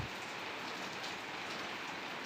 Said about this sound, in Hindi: झमाझम तेज बारिश शुरू हो चुकी है